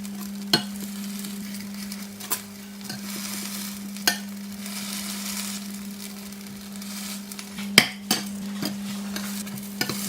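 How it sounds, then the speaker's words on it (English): Vegan keto patties, rolled into balls and pressed flat, fry in a pan with a steady, close sizzle, punctuated by a handful of sharp scraping clicks from a utensil at irregular intervals. "pop it in your frying pan and then squish it down"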